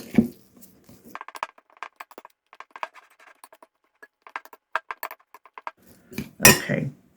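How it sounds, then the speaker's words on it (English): A sturdy spoon works cream cheese and mozzarella in a bowl for keto stuffed breakfast biscuits, giving a string of light clinks and scrapes in irregular bursts, with a heavier clatter near the end. "stir and stir until this is all combined"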